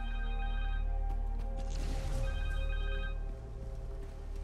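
Connors' mobile phone rings in Marvel's Spider-Man video game, a steady electronic ringtone that sounds in two bursts over low game ambience and music.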